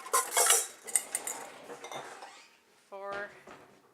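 Dishes and metal cutlery clatter loudly up close as a bowl is grabbed in a home kitchen while an olive oil Cajun-style paprika rub is prepared, then fainter clinks and a short ringing tone of a bowl set down.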